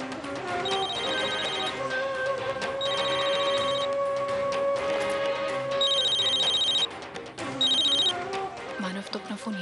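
A mobile phone rings in bursts of an electronic ringtone, repeating twice near the end over a continuous swell of dramatic television background music.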